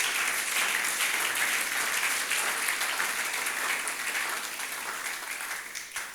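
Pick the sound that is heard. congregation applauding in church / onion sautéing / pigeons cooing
congregation applauding in church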